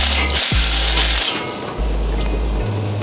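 Tightening exhaust bolts on a 2022 Subaru WRX with a power tool gives loud bursts of rattling impact hammering, broken by short pauses and a low mechanical drone underneath.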